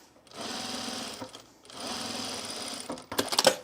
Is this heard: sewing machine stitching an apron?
yes